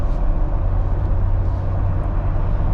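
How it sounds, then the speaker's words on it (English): A Jeep Wrangler JL on 37-inch Nitto Trail Grapplers climbs a steep grade in seventh gear at about 1600 RPM and 90 km/h. A steady, close engine and road drone holds without a break. "we are just keeping with the pace of traffic at 90 and around 1600 RPM, and holding seventh gear to do so up this steep grade"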